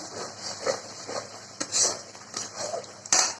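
A spatula scrapes and stirs garlic, onion, whole coriander, cumin, dried and green chilies and tomato in a pan, with irregular metallic scrapes and taps, close and moderately loud, and no talking.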